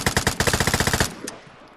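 Rapid burst of video game gunfire, about a dozen loud evenly spaced shots over one second, then a faint single report and quiet background.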